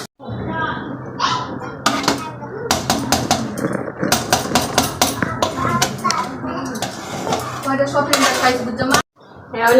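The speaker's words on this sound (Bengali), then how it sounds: "আলু ভাজি কাটতেছি, আলু ভাজি করা হবে" Potatoes are sliced for potato fry on a kitchen surface, with quick rhythmic knife chops and clinks coming in close bursts while a voice talks at times.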